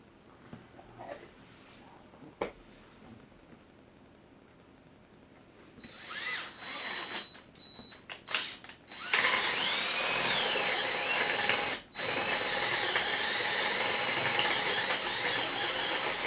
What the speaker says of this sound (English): Okay, I'm going to drill this other one now.